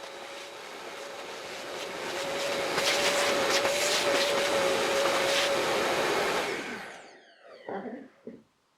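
A handheld router trims an inner circle in a wooden board on a pivot jig, a loud steady motor whine with a cutting tone that holds for about six seconds, then winds down and falls away with a few faint clatters at the end.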